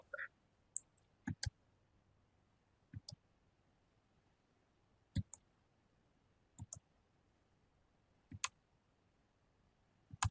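A computer mouse clicks sharply about a dozen times while selecting a book title on a website, the crisp clicks coming singly and in quick pairs with near-silence between.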